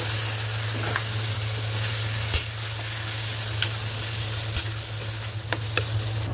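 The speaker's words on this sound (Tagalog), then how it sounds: "Gigisa natin mabuti ang ating giniling." Ground meat sautéing in a pan, a steady close sizzle with occasional sharp scrapes and clicks of stirring, no talking.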